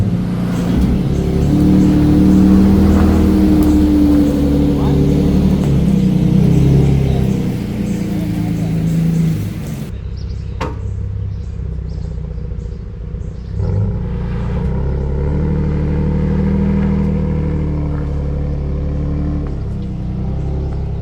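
A 2WD pickup truck climbing an off-road incline with a poor man's rear locking diff gives a loud, close engine drone and revving that surges and dips, with a brief quieter stretch in the middle.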